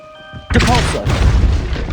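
A Depulso spell cast in Hogwarts Legacy (2023) sets off a sudden loud booming blast that follows a quiet tonal hum, then rumbles on for over a second.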